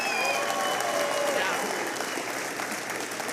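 Sustained applause from a large crowd, loud and steady with scattered voices and a few whistles mixed in, slowly tapering slightly.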